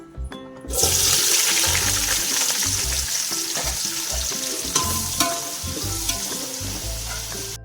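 Onions dropped into hot oil for chicken biryani, setting off a sudden loud, dense sizzle that stays strong and close throughout with some stirring clatter underneath.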